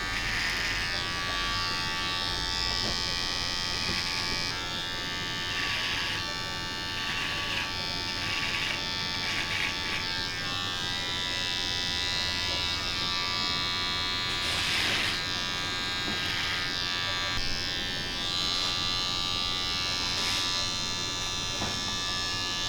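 An electric beard trimmer buzzes steadily as a barber tapers and lines a patchy beard, a close, continuous whine with slight shifts in pitch as it moves over the hair, and no talk.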